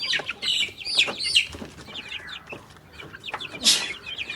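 Several chickens cluck and squawk nearby in irregular bursts, one sharp cackle standing out near the end, with no speech.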